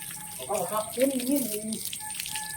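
Water runs from a hose or tap while a mat is washed, making a faint, steady rush under a person's raised voice across the short stretch.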